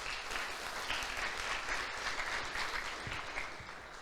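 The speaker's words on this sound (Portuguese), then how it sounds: "Então dá um aplauso ao senhor que está com uma cara assustado." A church congregation applauds steadily and evenly for several seconds, a dense wash of clapping with no break, heard up close within the worship hall.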